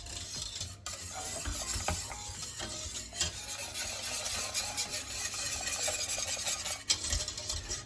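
A mixture being stirred in a bowl until smooth, with steady rubbing and scraping strokes running continuously, close and moderately loud, with short pauses.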